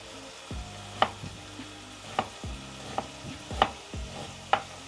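A single onion fries quietly in a pan for a fat-loss meal, with a soft sizzle under it. A spatula scrapes and stirs in a few spaced strokes about once a second, up close.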